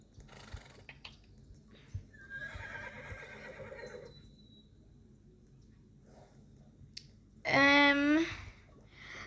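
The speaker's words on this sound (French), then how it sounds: "J'ai échangé Neptune contre un cheval. Une jument." A single high, quavering whinny from a mare in a video game rings out loudly near the end, following quieter clicks and a soft electronic tone.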